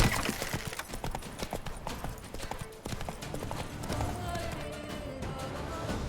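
Rapid rhythmic hoofbeats of a galloping horse in a video game, loud and continuous, with game-like sound effects and a brief voice underneath.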